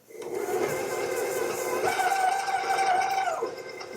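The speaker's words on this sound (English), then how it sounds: "I'm gonna go ahead and turn on our mixer" An electric stand mixer whirs steadily, creaming 150 grams of brown sugar for cookie dough. The motor hum stays loud and continuous throughout, and its pitch shifts partway through.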